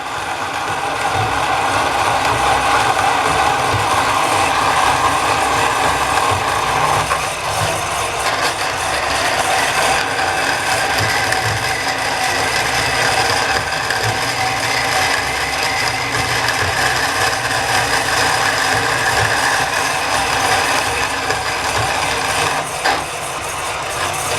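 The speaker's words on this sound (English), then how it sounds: "we can just kind of come in and hacksaw it out" A hacksaw cuts through metal on a weld positioner build in a steady, continuous rasping stroke noise, close and fairly loud, with no talk throughout.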